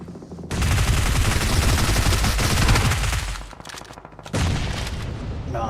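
In the PUBG video game, a grenade bursts and heavy gunfire rattles in dense, loud, overlapping volleys. The firing briefly thins out, then resumes with another sustained barrage.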